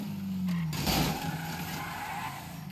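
Range Rover SUV driven in the GTA 5 video game, its engine roaring steadily with tire skids and squeals, loud and continuous throughout.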